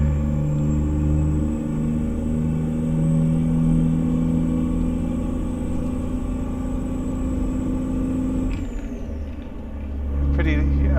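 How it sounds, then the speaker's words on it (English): A Peterbilt 351 truck engine in American Truck Simulator drones steadily at a loud, even level with a high whine above it, then shifts and briefly drops before rumbling back up, pulling a dump trailer. "got the engine sound level pretty loud"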